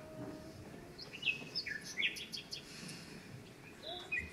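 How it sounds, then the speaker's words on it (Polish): A nightingale sings in short whistled phrases and chirps, clear and moderately close above a soft, noisy outdoor background. "Przecież mieliście słuchać Słowika."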